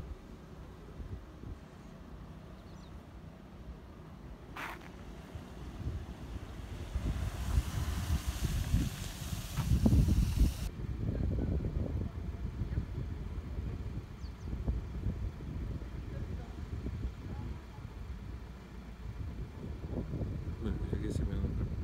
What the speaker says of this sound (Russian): Ну-ка, насколько этот Land Rover погрузится.